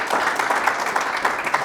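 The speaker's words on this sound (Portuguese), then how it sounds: "Uma salva de palmas pra ele" Brief, lively applause from an audience at a live talk-show interview, dense clapping at a steady level throughout the short burst.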